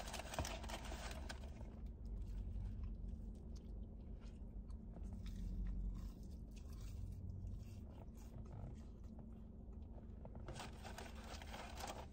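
Someone close by chewing McDonald's chicken nuggets, soft moist crunching and mouth sounds at low volume over a steady background hum.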